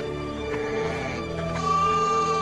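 Cartoon scouts hidden in the woods imitating sheep: wavering, bleat-like voiced calls layered over a steady background, moderately loud and continuous.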